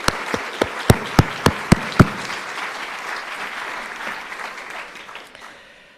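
Applause at an airports industry congress in Europe opens with a few sharp, evenly spaced loud claps, then swells into a denser round of clapping that fades out toward the end.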